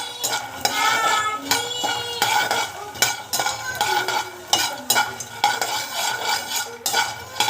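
Dry ingredients being roasted in a pan for homemade protein powder, with a spoon repeatedly scraping and clinking against the metal in a steady stirring rhythm, close and fairly loud, no talking.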